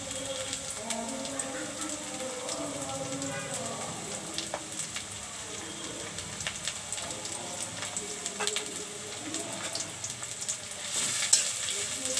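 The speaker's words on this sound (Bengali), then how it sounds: "সরিষার তেল দিয়ে দিলাম। এখন আমি পেঁয়াজ দিয়ে দিব।" Chopped onions fry in hot mustard oil with a steady, soft hiss and faint crackle that continues evenly throughout, fairly quiet and close, with no talking.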